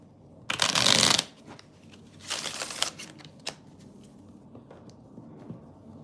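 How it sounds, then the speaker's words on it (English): Tarot cards shuffled close by, heard as two distinct riffling bursts, the first loud and sharp and the second softer, then a few light taps and shuffles against a quiet room. "All right, just shuffle these."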